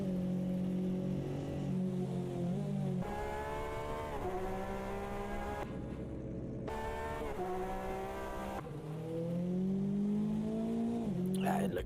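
Corvette C7 race car engine from a GTE racing game at Spa, heard from the cockpit as a steady droning tone with rising and falling revs, loud and continuous, with a brief cut in the middle.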